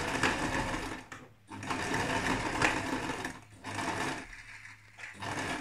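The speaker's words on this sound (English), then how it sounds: "do a zigzag along that same stitch" A sewing machine zigzag-stitches along the edge of a bath towel, running in steady bursts with brief pauses between them, close and fairly loud with no talking.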